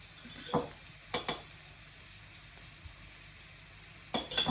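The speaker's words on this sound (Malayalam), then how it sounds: "എന്നിട്ട് ഇങ്ങനെ ഒന്ന് ഇളക്കി കൊടുക്കുക." A spiced onion mixture with turmeric and garam masala sizzles quietly in a pan while being stirred, with a few short scraping clinks of the spoon against the pan.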